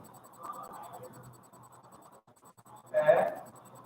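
Chalk or marker scratches across a classroom board in a few light strokes, then a louder scraping burst near the end, with faint room noise in between.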